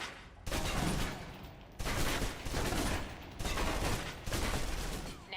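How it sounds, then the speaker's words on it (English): Submachine gun fire from the video game Alpha Protocol, the magazine emptied in four sustained automatic bursts separated by short pauses, loud and close with no talking. "Now, let's move on to the submachine gun. Now let's empty the clip."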